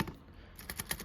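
Several quick taps on the keys of a Groma Kolibri portable typewriter with a faulty key mechanism, giving light irregular clacks close up and fairly quiet.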